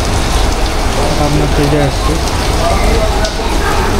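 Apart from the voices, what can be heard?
rain falling outside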